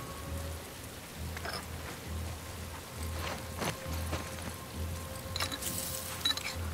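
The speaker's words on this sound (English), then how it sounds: "the rain should help mask some of our noise." Steady rain falls across an outdoor scene in The Last of Us Part II, a constant hiss of drops on surfaces with a few sharper knocks and splashes rising briefly above it, and no talking.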